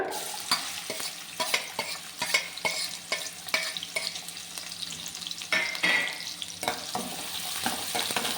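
Chopped onion and green chilli frying in a little hot oil, a steady crackling sizzle broken by repeated scrapes and clatters of a spoon stirring the pan, close and clear with no talking.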